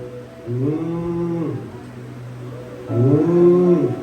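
A human voice imitates cows mooing, two long drawn-out lowing calls separated by a short pause, loud and close, in a church sermon.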